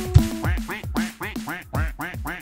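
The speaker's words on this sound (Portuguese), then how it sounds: "Vontade de fazer um carinho nesse pato." Cartoonish duck quacking from the Friday Night Funkin' VS Tree mod game, about eight rhythmic quacks in quick succession, clear and close, preceded by a short thump.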